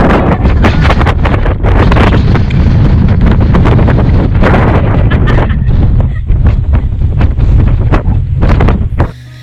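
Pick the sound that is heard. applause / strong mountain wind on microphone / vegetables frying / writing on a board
strong mountain wind on microphone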